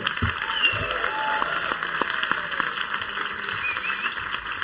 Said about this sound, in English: let's give a hand of applause to Fred D'Aguiar.